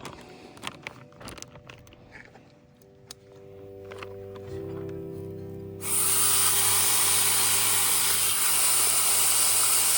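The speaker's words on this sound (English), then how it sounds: "now I'm gonna get the meat cooking for these tacos" Meat for tacos sizzling in a pan at a lakeside campsite, a steady loud hiss that bursts in suddenly after quieter clinks and a rising hum, continuing close and constant.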